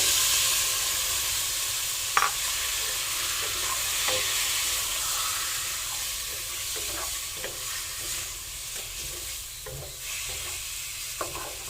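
Chicken pieces for adobo sizzle and fry steadily in a pan, with intermittent scrapes and clacks of a utensil stirring throughout, close and continuous with no talking.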